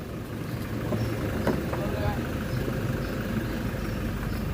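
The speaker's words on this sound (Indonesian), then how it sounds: "Suara mesinnya masih halus nih" A steady, smooth engine hum from a Banda Aceh travel minibus runs throughout at moderate level, with faint background voices and a few brief clicks.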